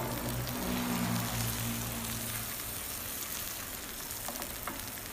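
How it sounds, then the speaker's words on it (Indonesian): Beaten egg frying in hot margarine in a pan for Korean egg toast: a soft, steady sizzle and crackle, fairly quiet, with a low hum at the start. "Panaskan margarinnya. Masukkan sisa kocokan telur."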